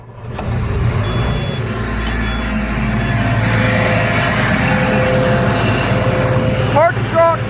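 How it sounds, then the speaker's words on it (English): A combine harvester engine drones steadily and loudly for the whole stretch during a bean harvest, with a broad low rumble, a few faint tonal whines and brief squeaks near the end. "listening to the noise of the combine"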